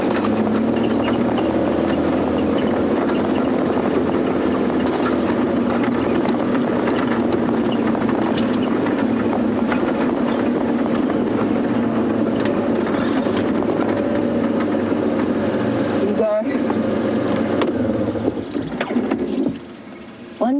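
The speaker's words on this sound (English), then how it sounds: "You hear Brent accelerating behind me." A safari vehicle's engine accelerating on a sunrise game drive: a loud, steady, close rumble under heavy wind buffeting that runs throughout, thinning briefly near the end.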